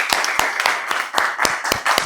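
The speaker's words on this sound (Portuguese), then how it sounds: "uma salva de palmas para Larissa" A group at a school film workshop claps in a rhythmic unison beat of about eight sharp, evenly spaced claps, close and crisp.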